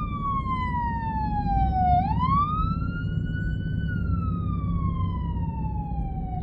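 A passing ambulance siren wails loud and close on the street, its single tone gliding down, sweeping back up, then sinking slowly as it moves away, over a low traffic rumble with no talking.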